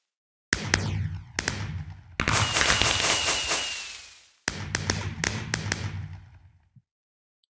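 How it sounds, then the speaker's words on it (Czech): Fireworks launched in the Minecraft video game go off in several loud, separate bursts, each a sharp pop with crackling. One longer burst fades out slowly before the last volley, and the clip ends in near silence. "více typů ohňostrojů, Klidně vypustím všechny"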